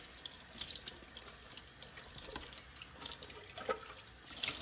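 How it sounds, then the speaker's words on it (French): Tap water running steadily over Silvercrest juicer containers as they are rinsed in a sink, a continuous close splashing hiss with faint shifting spatters. "Ensuite, les bacs. Petit passage sous l'eau,"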